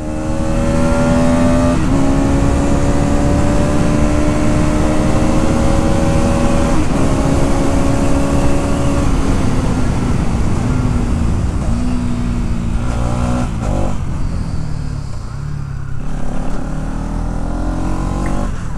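A Bajaj Pulsar 200NS 2024 edition motorcycle engine revs up steadily under acceleration, its tone climbing through gears with brief drops at shifts, loud and close, with steady road and wind noise throughout.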